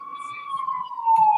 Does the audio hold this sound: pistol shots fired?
no